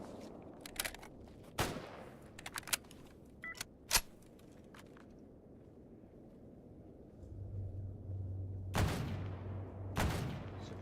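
Gunfire in the video game Stalker GAMMA, several sharp, distant single shots cracking at irregular intervals over a quiet ambient background, with a couple of louder reports near the end.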